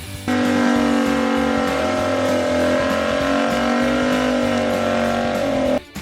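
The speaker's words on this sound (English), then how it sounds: "The 1971 Dodge Charger RT Hemi was a bold farewell to Mopar's peak performance, blending fierce design with legendary engine strength." A 1971 Dodge Charger R/T with a Hemi engine runs loud and steady at high revs for about five seconds, with a strong, sustained engine tone and a brief drop near the end. Nobody speaks.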